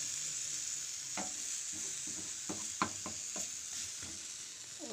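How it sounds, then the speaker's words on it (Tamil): An egg dosa roasts on a hot pan with a steady bright sizzle throughout, broken by several soft scraping taps of a spatula as it is folded and flipped, close by and without talk. "நம்ம அப்படியே மடித்து போட்டு 2 சைடும் திருப்பி நல்லா ரோஸ்ட் பண்ணிக்கலாம்."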